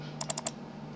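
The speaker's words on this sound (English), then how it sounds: "Double clicking on that file will open it up." Computer mouse clicks opening a file: four crisp, close, quiet clicks in quick succession, two quick pairs, then stillness over a faint low hum.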